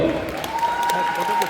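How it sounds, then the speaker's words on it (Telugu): An audience applauds as trophies are handed to young dance participants, a moderate wash of clapping sitting beneath a tonal voice or music that carries across the whole moment. "ఫోటోలు దిగి గట్టిగా ఒకసారి చప్పట్లు"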